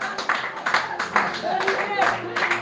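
A church congregation claps in a steady rhythm for the Lord, a run of close hand claps heard under and between loud talking.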